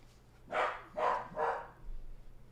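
A dog barks three times in quick succession, fairly close and clear, with a faint low hum in the background and no talking.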